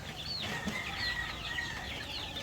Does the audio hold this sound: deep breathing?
no